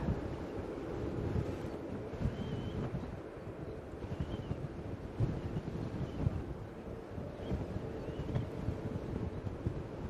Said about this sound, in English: See how windy it is.